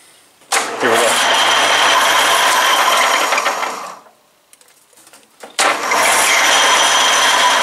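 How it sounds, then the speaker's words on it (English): A lathe spins up to turn a backhoe dipper cylinder gland seal, giving a loud, close mechanical whir and rattle. It stops, goes quiet for about a second, then starts again. "I'm going to go ahead and chuck it in the lathe and um, basically just turn it out"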